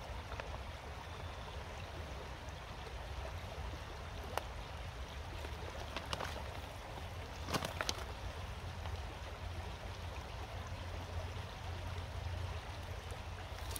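Water running steadily into a Puribag purification bag being filled at a stream source, a continuous trickling, pouring wash with a few faint clicks, close and moderately quiet, no talking.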